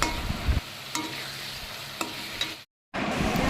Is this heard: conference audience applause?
no